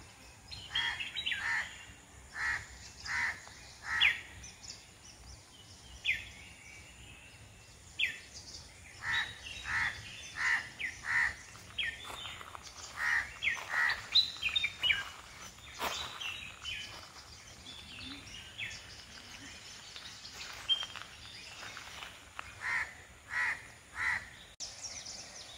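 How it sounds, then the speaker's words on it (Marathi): Crows caw and small birds chirp at dawn in a village, with bursts of calls coming in clusters at moderate distance over a quiet background and no speech. "पक्ष्यांचे किलबिलाट ऐका."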